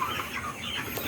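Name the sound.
Sonali chickens clucking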